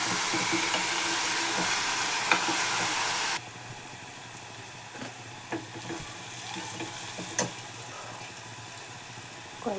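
Onions frying in oil in a pan, a loud steady sizzle that suddenly drops to a quieter hiss partway through, with scattered clinks and stirring knocks, close and without speech.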